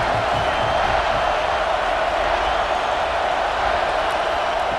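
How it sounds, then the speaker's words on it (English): A stadium crowd roars steadily and loudly through a college football video game broadcast of Oklahoma at Alabama on a third down, a dense unbroken wall of cheering with no clear peaks. "Third down, and the crowd really getting into it."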